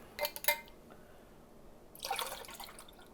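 Brine for fermented hot sauce made with orange Thai and serrano peppers is poured and mixed in a glass container. Two short bursts of liquid splashing and trickling come through, the first near the start and the second toward the end, with a quiet lull between them.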